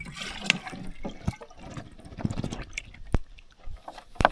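Water is fetched at a forest camp in the taiga for a homemade washstand, with close splashing, trickling and irregular knocks of a container against water, fairly quiet and uneven.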